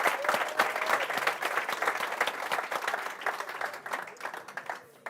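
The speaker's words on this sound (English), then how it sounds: "Let's give him a round of applause." Applause from a crowd at a digital society school showcase, many hands clapping in a steady, moderately loud roar that gradually thins and tapers off near the end.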